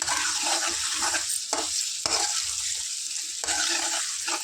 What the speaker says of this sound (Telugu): ఇది మంచిగా చక్కగా ఒక టూ మినిట్స్ ఇలా ఫ్రై చేసుకున్నాం